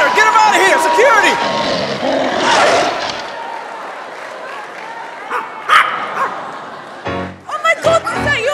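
Small dogs barking and yipping on a talent show stage, sharp repeated barks mixed with crowd noise and people talking loudly over them.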